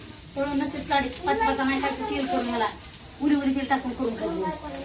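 Paneer fries in hot oil with a bright hissing sizzle running beneath loud, close conversational voices that dominate throughout.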